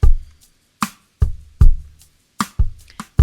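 Ukulele strum pattern mixing muted chunk strums with open strums over a backing beat: short percussive hits in an even, bouncy rhythm, punchy and close, with no voice.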